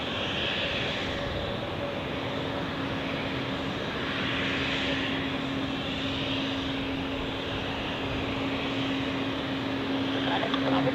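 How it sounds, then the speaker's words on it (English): A Helvetic Airways Embraer 195-E2 jet at Zurich Airport gives a steady broadband engine roar, moderately distant, holding constant throughout with a faint tonal whine. "Another Helvetic Embraer"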